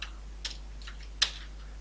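Sparse keystrokes on a computer keyboard while entering an npm install command for an Express server setup, just three or four light, close clicks spread out over a quiet background with no speech.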